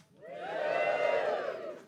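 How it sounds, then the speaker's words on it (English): A comedy club audience at Hot Water Comedy Club cheers and whoops in one sustained roar that builds quickly, holds loud for over a second, then starts to fade. "You guys give me a cheer."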